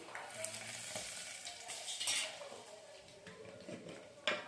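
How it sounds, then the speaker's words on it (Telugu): Small onions fry in a pan for gongura pappu, a steady close sizzle with stirring scrapes and a sharp clink near the end; no one speaks. "ఇదిగోండి వేగిపోయింది చిన్నులపాయ"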